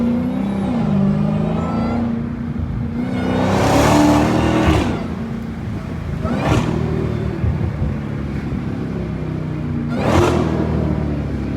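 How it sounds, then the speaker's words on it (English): A Dodge Hellcat V8 drives through a downtown street, heard loud and close from inside the car, its engine roaring in surges with a series of sharp bursts as it revs and downshifts. "What y'all know about the Hellcat downshift?"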